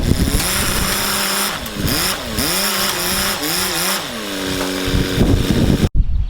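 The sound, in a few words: forklift engine pushing a truck body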